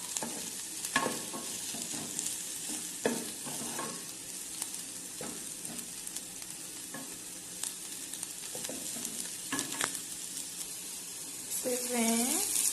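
Chives, bell pepper and chili pepper fry in a pan, a soft steady sizzle broken by scraping strokes of a spoon stirring them.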